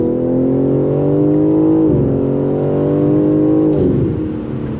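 A BMW G80 M3 Competition all-wheel-drive sedan pulls hard at full throttle, its engine tone climbing loud and steady through two quick upshifts that briefly drop the pitch, with no talk.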